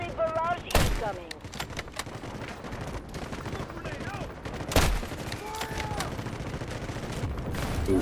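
Artillery barrage in a military video game: heavy booming blasts and dense gunfire, with two sharp loud impacts standing out from a continuous roar of battle, while players talk over the chaos.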